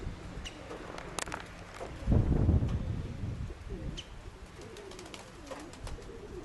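A steel-colored pied pigeon, a ringed female, coos softly nearby amid other birds' calls and chirps, a low rolling throaty burble swelling midway before fading, with faint background ambience and no speech.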